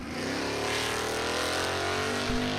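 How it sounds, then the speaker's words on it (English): A 1966 Pontiac GTO drag car makes a solo pass at a dragstrip, its engine roaring loud and steady at high revs, with a brief shift-like dip near the end. "And John Reynolds to do a solo pass now in the beautiful 1966 Pontiac GTO from Rockford, Illinois."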